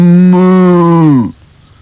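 A human voice imitates a cow's moo, a single loud sustained low tone held for over a second that then falls away abruptly.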